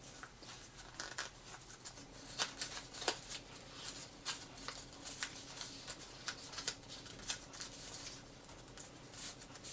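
Paper being folded into an origami crow, heard up close as quiet crinkles and sharp creasing snaps that come in irregular bursts throughout.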